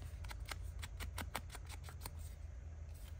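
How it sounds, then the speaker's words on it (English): Scissors snip through paper during a journal craft session, a quick run of about a dozen close, crisp cuts in steady rhythm over roughly two seconds, then a brief quiet rustle. "I think I am going to cut up to that line."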